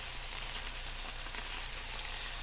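Lamb shank sauteing in a pan, an even soft sizzle holding steady throughout, fairly quiet, ending with a brief bump of handling.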